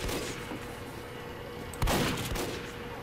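Gunfire from an online match of Team Fortress 2 during a holiday-night session, a steady wash of distant shooting with one sharper nearby blast partway through, no talking.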